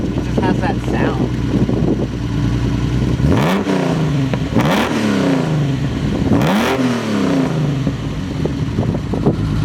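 A restomod 1972 Datsun 240Z engine idles, then gives three sharp revs that climb and fall away. The car is close by, and people talk around it.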